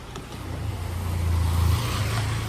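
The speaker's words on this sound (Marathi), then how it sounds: "गाडी येते आमची." A car pulls up to collect a group leaving Goa at the end of a trip, its engine a low steady rumble that builds and stays close throughout, with no voices.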